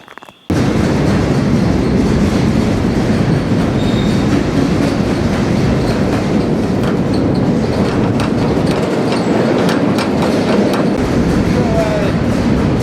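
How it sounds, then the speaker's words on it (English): A large freight boxcar rolls on the rails, a loud continuous rumble and roar heard from aboard the moving train, with faint wheel clicks and squeals over the steady noise. "Now we're about to arrive back in Klamath Falls with this large boxcar."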